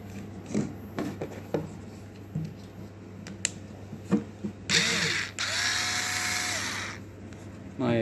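A 4.8-volt cordless screwdriver whirs in one steady burst of about two seconds near the end, after scattered handling clicks and taps of the tool.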